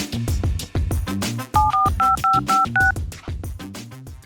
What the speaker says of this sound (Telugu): ఆ సంతోష్ గారికి కాల్ చేద్దాం.